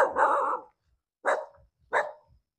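A dog barks three times outdoors at a rural garden lot in Dong Nai, a longer first bark followed by two sharp, spaced barks at moderate distance.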